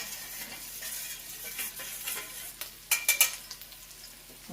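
Dissolved Mama Sita palabok mix poured into a pot and stirred, a soft sizzling wash with scraping strokes, ending in a few sharp clinks of a utensil against the pot.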